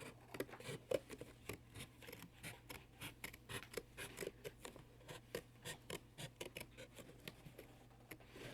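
Scissors snip through cosplay material in a steady series of short, crisp cuts, close and fairly quiet, with no talking.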